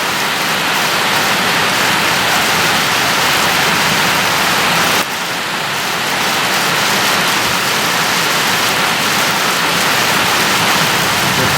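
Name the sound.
heavy rain downpour on a farm with ducklings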